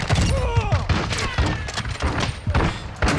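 Shotgun blasts from Modern Warfare, a series of heavy thumping shots mixed with impacts and game effects, close and busy, with whooshing sweeps and a voice talking over the action.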